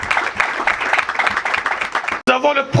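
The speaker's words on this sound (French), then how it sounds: "On peut applaudir pour lui." Audience applause for a professor at a political gathering, dense clapping filling the room for about two seconds before it cuts off abruptly and a voice speaks.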